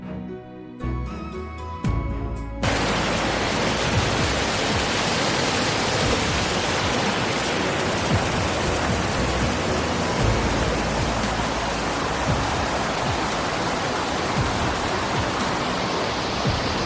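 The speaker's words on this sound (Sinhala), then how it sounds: "මාර්ගයේ හමු වෙන පළවෙනි දියඇල්ල අපිට හමු වෙනවා" Rahas Ella waterfall, about 15 metres high, in a forest reserve: after a brief musical lead-in, a loud, steady broadband roar of falling water fills the rest, constant and close with no voices.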